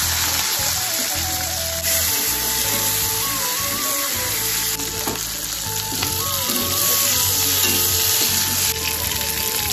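Onions sizzle steadily in hot oil in a pan for chilli chicken and fried rice, a close, continuous frying hiss with occasional stirring clinks and no voices.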